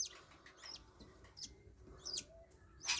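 Budgies in a breeding cage, a grey-green cock and a sky blue opaline hen, give faint soft chirps and warbles at close range in a quiet room.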